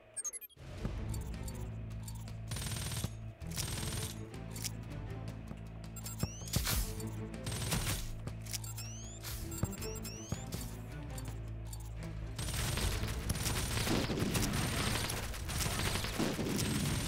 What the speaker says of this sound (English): Even more burst plasma cannons, a little plasma gatling too.